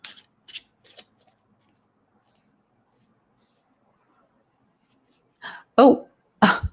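Reading cards are shuffled in short, crisp riffling bursts, a few at the start and louder ones near the end, with near silence between them.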